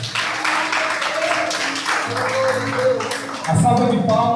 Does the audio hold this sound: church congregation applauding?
yes